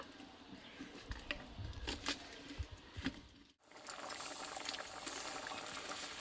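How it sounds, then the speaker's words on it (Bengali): A pot of pea dal simmers and bubbles after tomato goes in, with a soft steady burble and occasional low pops. It pauses for a moment and then resumes as a faint, dense boil, with no talking. "আমি এক মিনিট মতো ডালটাকে একটু ফুটিয়ে নেব"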